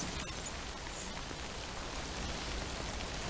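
Steady rain from the video game Death Stranding falls without pause, a dense, even hiss that fills the whole stretch with no talk over it.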